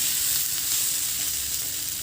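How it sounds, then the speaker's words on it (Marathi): Potato and capsicum bhaji sizzles steadily on a tava, a continuous bright frying hiss close up and alone for about two seconds, with no talk. "मधून मी 2 वेळेस ही भाजी छान परतून घेतली आहे।"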